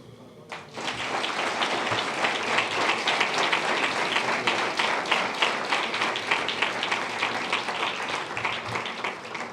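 A crowd applauds at a university award ceremony held in a history museum. The clapping starts abruptly and stays full and steady, a dense roomy wash of many hands, and it continues to the end.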